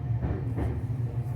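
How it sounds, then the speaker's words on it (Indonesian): A Tokyo train rumbles along in a steady low drone with faint rattling, heard from inside the carriage, no talk. "Kita naik kereta lagi"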